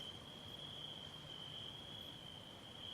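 Crickets chirp in a lush meadow by a river in the video game Roadwarden, a steady, continuous high trill held at an even level under faint low ambient rumble, with no talking.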